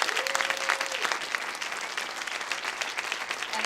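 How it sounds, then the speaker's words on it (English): Crowd applause at a chamber of commerce gathering: a roomful of people clapping steadily and fairly loudly, a brief tonal whine near the start, continuing evenly for several seconds. "So let's have a round of applause for them."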